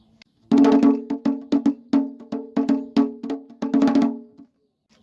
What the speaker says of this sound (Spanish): es un tambor que se llama taiko. Es un tambor japonés.